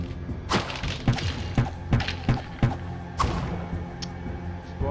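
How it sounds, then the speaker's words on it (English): Barrels blow up in a Diablo video game, giving a rapid string of sharp thuds and bursts with short gaps between them. "Exploding barrels"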